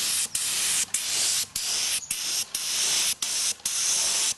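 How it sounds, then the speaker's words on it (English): A spray gun applies lacquer to a wood-turned piece on a turntable, giving close, loud hissing bursts broken by about nine brief pauses. "I'm going to get into about 6 to 8 inches away and spray fairly quickly"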